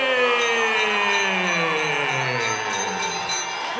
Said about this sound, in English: the bell in round number 1